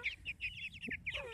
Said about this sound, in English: These black copper marons sure grow fast.